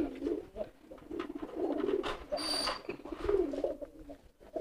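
Soft, repeated cooing of two courting racing pigeons close by, low throaty calls rising and falling continuously with a faint chirp in the background.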